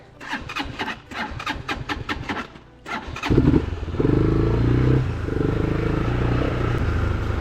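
An enduro motorcycle on a mountain trail in Zakarpattia: rapid chugging engine pulses at first, then a loud sustained engine drone as the bike pulls away, close to the rider.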